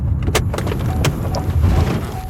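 A car door is pulled open with a few quick clicks and a latch clunk over a low steady rumble, close and fairly loud, with no talking.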